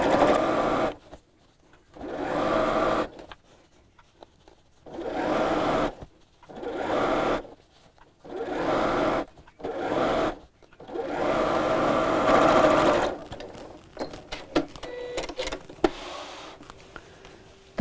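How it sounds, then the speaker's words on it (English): Sewing machine stitching in a circle around the top of a crossbody bag slipped over the free arm, running in several short whirring bursts with brief pauses, then quieter handling and fabric rustle at the end. "So let's slip this over the free arm and sew in a circle."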